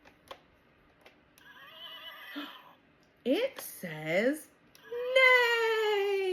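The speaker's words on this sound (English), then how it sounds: "It must be the brown horse." A horse neigh from a farm animal toy or recording, heard as a rising whinny after a child-friendly voice speaks, with a sustained tonal call near the end.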